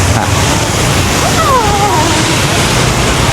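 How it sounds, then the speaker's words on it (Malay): Waves wash and splash continuously, loud and close, with a broad steady rush of water filling the scene. "Wah, ada air lah."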